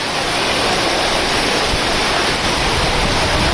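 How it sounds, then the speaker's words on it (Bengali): Heavy rain falling outdoors in the countryside where cattle stand in it, a dense, loud, unbroken hiss of downpour with no voices. "এখন বৃষ্টি হচ্ছে"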